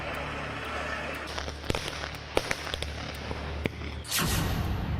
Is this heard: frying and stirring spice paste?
no